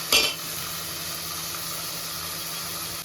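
Crushed small onions (shallots) sautéing in oil in a pan for prawn kuzhambu give a steady, close hiss of sizzling, opened by a brief clatter of a utensil.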